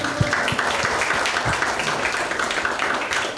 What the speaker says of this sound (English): Round of applause for the first question answer.